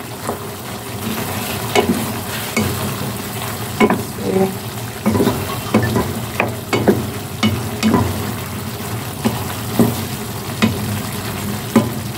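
A spoon stirs ginataan papaya with string beans and sardines in a pan, giving repeated scraping strokes at a fairly even pace over a low simmering bubble, up close and without talk.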